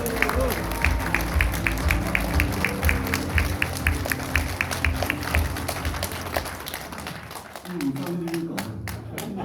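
A crowd at a Busan public event applauds as a government minister is welcomed, a dense, sustained clapping mixed with rhythmic hand claps and crowd murmur, thinning toward the end as voices emerge.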